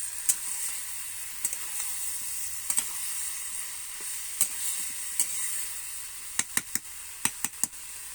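Cauliflower, potato and peas frying in a pan, a steady high hissing sizzle with scattered spatula scrapes and clicks, the clicks bunching together toward the end, close and fairly quiet, no voices.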